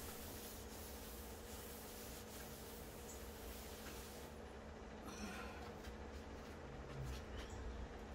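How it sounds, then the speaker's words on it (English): Steady, soft abrasive rubbing repeats back and forth at close range with no voices, a 220 grit sanding sponge worked over a smooth painted drawer surface. "So I use a 220 grit sanding sponge just to make it completely smooth"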